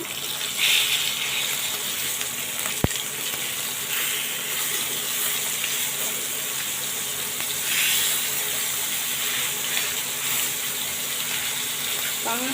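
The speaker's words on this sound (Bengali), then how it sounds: "সুন্দর করে উল্টে পাল্টে মাছটাকে আমি ভেজে নেব" Pangas fish frying in a little oil in a pan, a steady soft hiss and crackle continuing throughout with a brief sharp tap partway, faint voice in the background.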